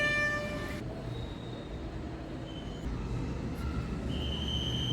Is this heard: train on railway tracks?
yes